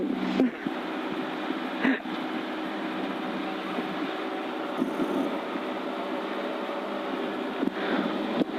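A rally car engine drones steadily inside the cabin on a Côtes du Tarn special stage near Salvagnac, a low constant hum broken by a few short knocks and clunks.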